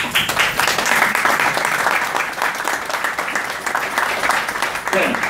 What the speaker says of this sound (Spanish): Así que va este aplauso mío con ustedes.